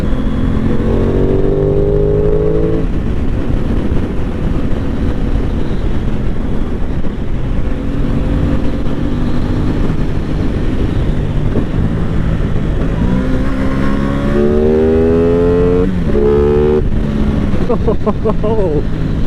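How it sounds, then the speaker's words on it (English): An Aprilia Tuono 660 middleweight naked motorcycle ridden hard on an open road in dynamic mode, its engine roaring loudly with rising and falling rev sweeps through gear changes under heavy wind rush. "You can really hear the induction roar."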